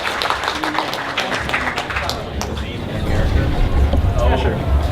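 An audience at an anime fan panel claps together, a dense patter of many hands with cheering voices mixed in, growing fuller toward the end.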